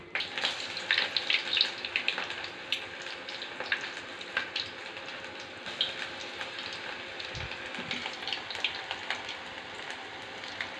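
Mushroom pakoda batter drops into hot oil and fries, giving a soft, steady sizzle with frequent crackling pops, fairly faint and close, with no speech.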